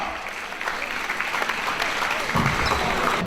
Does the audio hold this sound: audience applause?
yes